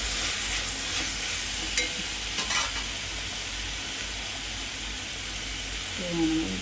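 Cooked lentils being stirred with salt in a sizzling pan, a steady close frying hiss with a few soft scraping knocks and no talking.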